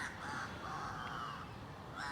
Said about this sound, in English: Seagulls are out in full force again